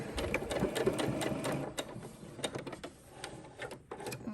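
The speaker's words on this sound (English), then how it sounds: "I've done right now, I'll clip my threads in a sec, is sewn across at 1/4 inch with good sides together" A sewing machine stitches a quarter-inch seam across layered fabric, a rapid run of mechanical needle clatter that slows into short bursts and a few separate clicks, close and moderately quiet, with no talk.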